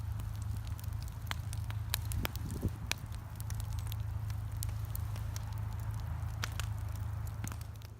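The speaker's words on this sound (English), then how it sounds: "They've got a big bonfire going on down there." A big outdoor bonfire crackles with sharp, scattered pops and snaps over a low, constant rumble, heard from a moderate distance.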